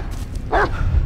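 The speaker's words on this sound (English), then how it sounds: "What are you barking at?" A single short dog bark rings out, fairly close, against a low background rumble, in the video game Blair Witch.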